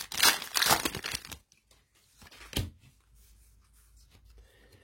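A foil trading card booster pack is torn open up close, giving loud crinkling and ripping for over a second, then a sharp crackle and faint handling rustles.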